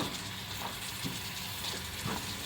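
Masala spices sizzle and fry in a hot pan for an iftar dish, a steady close hiss with soft crackling swells throughout, no voices.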